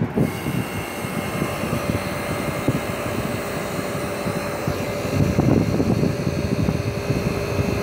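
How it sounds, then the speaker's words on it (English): An early 1960s Carrier Weathermaker air conditioner runs loud and close, its compressor kicking on under the fan's steady rushing drone and mechanical rumble, with no talking. "let's hear the compressor start up."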